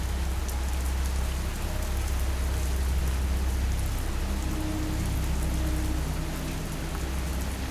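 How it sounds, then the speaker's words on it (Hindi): Steady rain falling on a forest path at night, a dense continuous patter with low rumble underneath, loud and unbroken throughout with no voices. "बस बारिश की बूंदें गिर रही थीं।"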